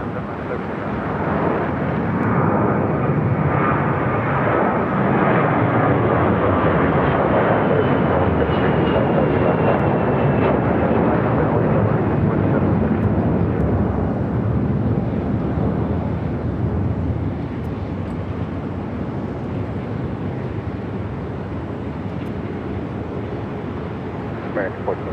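An airliner takes off from runway 7 left at Phoenix airport, its engines a loud, steady, broadband roar lasting the whole span and easing slightly toward the end, with radio voices heard over it.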